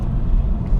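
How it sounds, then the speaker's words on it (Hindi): A car engine rumbling steadily at close range as the driver shifts into third gear in traffic, a brief low drone with no talking. "अभी जैसे मैं थर्ड गियर में जाता हूँ"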